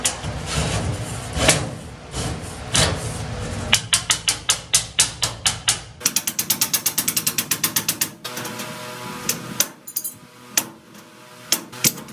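A power driver whirs and ratchets in short bursts, driving screws into sheet metal on a four-way furnace plenum transition, close and loud, with a rapid clicking stretch in the middle and metallic handling between bursts.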